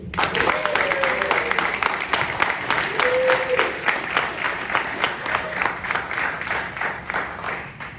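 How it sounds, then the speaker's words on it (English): An audience at a hip-hop summit panel applauds for several seconds, dense clapping that swells and then gradually thins out, with a voice and crowd murmur underneath. "Give a nice round of applause for Ms. Wendy today."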